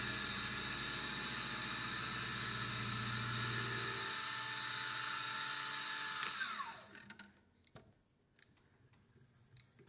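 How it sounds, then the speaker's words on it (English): A small milling machine drives a heavy end mill through brass with a steady whining hum and a low grinding buzz, then spins down and goes quiet, leaving a few faint clicks. "This is obviously quite a heavy cutter, a lot of surface contact on the milling cutter, but this is just brass, so even my little milling machine has no trouble with that"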